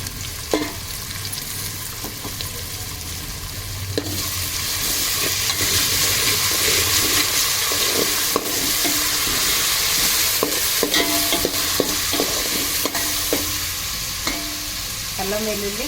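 Ground paste of mint and four green chillies sizzles and hisses in a pan over fried onions for chicken mandi biryani, with steady loud frying, scraping stirs, and occasional clanks of the spoon.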